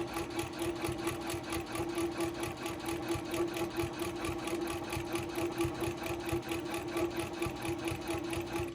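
Sewing machine quilting fabric, a fast, even mechanical chatter of needle strokes running steadily and close up, fairly quiet, with no talking.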